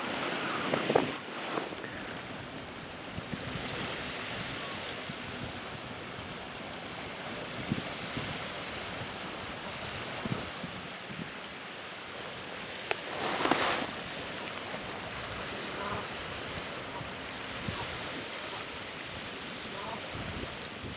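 Ocean surf rolls continuously at a snowy winter beach, a broad steady wash with occasional louder surges and gusts of wind buffeting the microphone, no talking.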